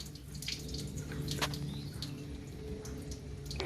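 Coolant water drains from the plug at the bottom of a Morris Minor radiator near the elbow, a soft trickling and dripping stream, fairly faint and steady with no voices.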